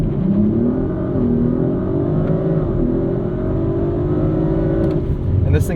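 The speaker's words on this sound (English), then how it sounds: "And you can see that demonstrated there with that acceleration." A 2023 Audi RS5 Competition with a twin-turbo V6 accelerating hard from a standstill, its engine note droning steadily and rising in pitch for several seconds, loud and close inside the cabin.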